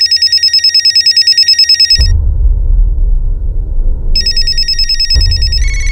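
A telephone rings loudly in a fast, repeating electronic trill that breaks off, then resumes after a stretch of low rumbling background.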